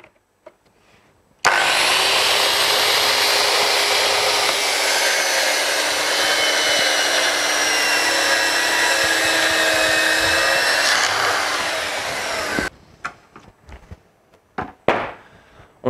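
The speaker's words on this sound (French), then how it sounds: "une scie plongeante, ça pourrait être une scie qui ne plonge pas. Là, à l'atelier, on a une des meilleures, la TS55 de chez Festool" A Festool TS55 plunge saw on a guide rail cuts through wood in a workshop, starting abruptly with a loud, steady whine that runs for about eleven seconds and then cuts off, followed by a few knocks and handling clatter.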